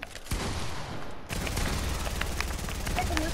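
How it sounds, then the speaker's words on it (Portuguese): Gunfire in a video game, rapid bursts of shots over a continuous dense roar, loud and close, with a sharp break near the start. "Deu um tiro na cara desse."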